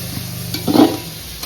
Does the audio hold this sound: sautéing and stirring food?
yes